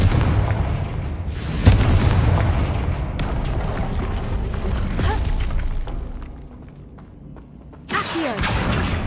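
Repeated Confringo fire spell blasts from Hogwarts Legacy erupt as loud booming explosions with crackling, shattering tails, several bursts in a row with short lulls between them.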